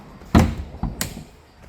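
Front bonnet of a Porsche 981 pushed shut, a sharp loud thunk followed by a second softer latch thud and another firm knock, close by with no talk.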